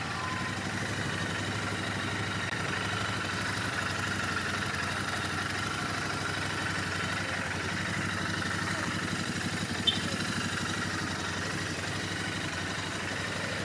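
A Royal Enfield motorcycle with its stock exhaust idles nearby in a steady, even low rumble that holds constant, with no revving.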